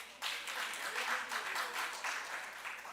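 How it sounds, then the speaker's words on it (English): A round of audience applause for exhibitors at a JTA 2024 gathering, dense clapping from a crowd that starts abruptly and carries on evenly for a few seconds. "A big round of applause, please."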